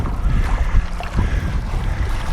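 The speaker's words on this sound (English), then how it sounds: "we've got a bit of rough wind going on here" Rough gusty wind buffeting outdoors, a loud low rumbling roar that swells and dips in uneven surges across the whole moment, with no voices.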